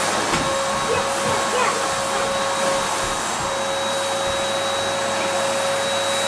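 A household vacuum cleaner runs steadily after being cleaned out, a continuous close motor whine with a sharp tonal hum throughout, no talk over it.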